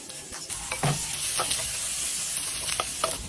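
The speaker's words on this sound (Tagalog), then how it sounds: "Ginisa na natin ang ating bawang, sibuyas at ang ating luya at ang ating pangpaanghang." Garlic, onion, ginger and chili sauté in a hot pan with a steady close sizzle. Occasional stirring scrapes cut through the hiss.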